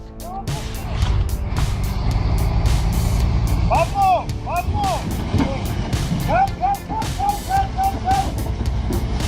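A Kenworth logging truck with a powerful diesel engine hauls heavy timber on a winter mountain road, its steady low rumble filling the scene and joined by brief high squeals, with a voice talking over it.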